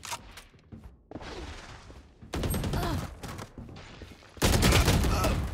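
Bursts of rapid gunfire in Valorant, a first-person shooter, building from scattered shots to louder sustained volleys near the end, with faint speech in the background.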